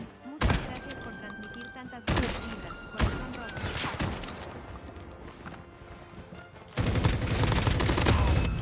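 Gunfire in the Call of Duty Mobile video game: loud, close shots hit at intervals, then a sustained rapid burst of fire near the end. A voice talks over the shooting.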